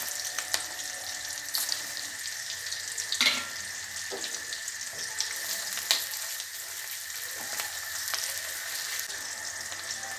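Two whole tomatoes with their stem ends trimmed go into a hot pan and fry with a steady, close sizzle and scattered crackles and clicks; no one speaks.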